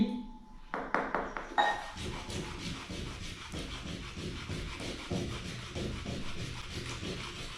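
A medicinal root is rubbed back and forth on a grinding stone, a rhythmic scraping that repeats steadily after a few sharp knocks at the start, close and fairly loud.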